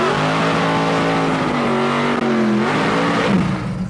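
A 1,000 horsepower Chevy Silverado work truck engine revs loud and close, a rough, throaty drone that holds steady, then dips and climbs again near the end.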